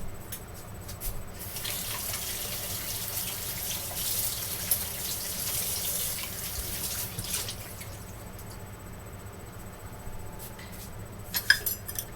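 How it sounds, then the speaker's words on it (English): Running kitchen tap water as something is rinsed off while making berry sauces, a steady close splashing hiss with a few light clinks near the end, and no talking. "Rinse it off so I can do the raspberry next."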